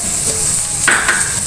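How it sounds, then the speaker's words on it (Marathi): Tomatoes and salt get stirred into an egg curry masala in a pan, making a steady hiss of frying with a brief scrape of a spoon partway through, close and fairly loud. "आणि पुन्हा चांगलं मिक्स करूया"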